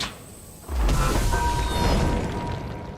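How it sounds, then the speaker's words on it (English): A deep booming video game explosion erupts suddenly and loud, then rumbles on as a sustained roar without any voices. "Oh, there's the explosion I was supposed to be worried about."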